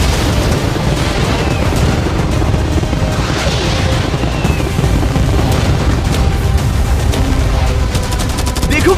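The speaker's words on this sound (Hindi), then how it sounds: "मैं चाहता हूँ कि तुम कैनन्स, फायरवर्क्स, एरोज, कैटापल्ट्स सब कुछ एक साथ फायर करो।" Cannons and fireworks fire all at once in a dense, continuous barrage of booms, crackles and blasts, loud and unbroken throughout, with sharper pops piling up near the end.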